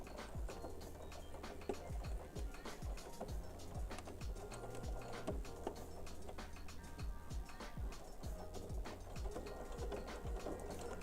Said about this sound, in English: We're going to stitch very slow because it is multiple layers of fabric